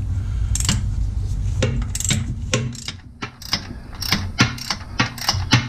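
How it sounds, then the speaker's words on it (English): A ratchet wrench removes a bolt while an engine is attached to the transmission of a Jeep TJ, giving close, sharp clicking in repeated short bursts with brief pauses between strokes. "we're going to take this bolt out"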